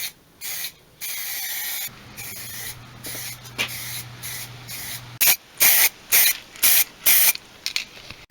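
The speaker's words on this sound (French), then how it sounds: "maintenant je vais mettre un petit peu d'après de finition en bombe" A cheap spray can of primer is sprayed onto a moped part in short hissing bursts, first a couple of longer sprays, then a quick series of brief puffs, close and loud.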